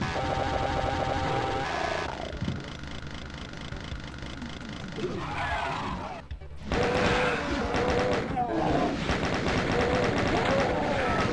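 A chaingunner enemy fires in a Doom map: rapid bursts of chattering gunfire mixed with other game effects and a steady backdrop, with a brief dropout midway, and someone talks over parts of it.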